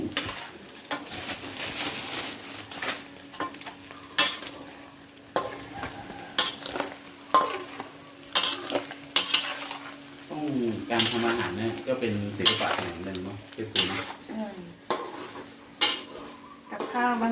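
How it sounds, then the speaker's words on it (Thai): Shrimp fry in hot oil in a pan on a strong flame, with a continuous sizzle, repeated stirring and metal utensil scrapes and clanks. Occasional talk is heard over the cooking. "ไปทอดกุ้ง"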